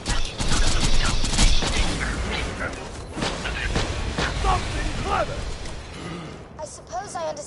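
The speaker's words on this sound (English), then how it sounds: "Throwing grenade" Gunfire and an explosive blast in the shooter game Borderlands 2, with dense rapid shots and booms up front fading into scattered impacts, with voices speaking over the combat.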